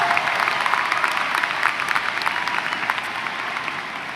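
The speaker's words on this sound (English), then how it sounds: "Let's give Piper a round of applause for demonstrating a commitment to education." Sustained applause from a high school graduation audience in Des Moines, dense and steady with many overlapping claps throughout, fairly loud and close, easing slightly toward the end.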